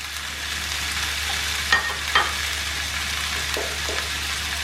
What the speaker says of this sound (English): We are going to lightly stir it.